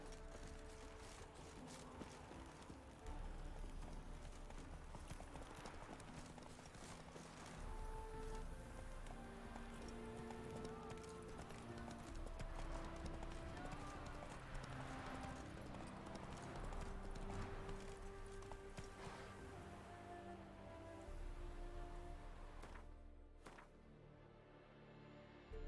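Hooves clip-clop in a steady galloping rhythm as a horse carries its rider in The Witcher 3 Heart of Stone, continuous and fairly close, with faint in-game voices and ambience underneath.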